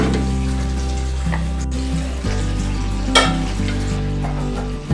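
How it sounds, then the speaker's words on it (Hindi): Chicken shashlik fries on a stove in a steady, close sizzle with a low hum underneath, and a few brief stirring clatters come through near the middle. "भूनना है इसे आंच पे 3 मिनट के लिए।"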